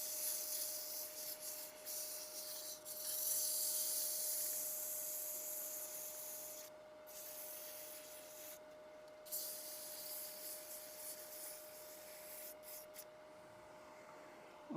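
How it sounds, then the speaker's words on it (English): Steady dry scraping of 150-grit sandpaper rubbing back and forth by hand over a wooden box lid, continuous and close, with brief pauses, no talking. "Now I'm only sanding this with 150"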